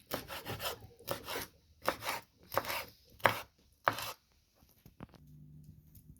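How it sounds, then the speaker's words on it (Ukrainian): Knife chopping herring into pieces on a board for a layered fish dish: six or so sharp, close thumps with a short rasping scrape in each, spaced about a second apart, then quieter rustling at the end. "І знову нарізую рибку на такі часточки"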